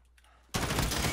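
M4A1 rifle fire in Call of Duty Warzone, a sudden loud burst of rapid automatic shots starting after a quiet half second and continuing steadily to the end.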